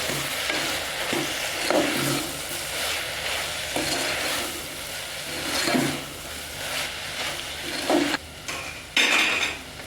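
Spiny gourd (kantola) fries in oil for a Kathiyawadi curry while a spoon stirs it, making recurring scrapes and clinks against the pan over a continuous sizzle.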